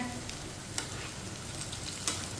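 Okra slices frying in oil for crispy bhindi give a continuous soft sizzle, punctuated by a couple of brief scraping stir sounds, fairly quiet and close with no talking.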